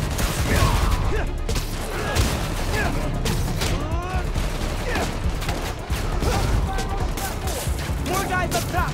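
A street shootout in Spider-Man: Miles Morales, with repeated gunshots and bursts of automatic fire crackling steadily throughout, mixed with in-game voices and mechanical action noise.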